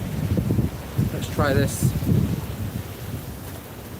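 Strong wind on Blackpool promenade in the rain buffets the microphone with a low, gusty roar, and a person speaks briefly over it.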